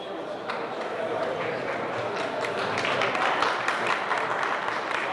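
Audience at a testimonial dinner in a school gym claps steadily, a dense crowd applause that builds slightly, with some voices mixed in.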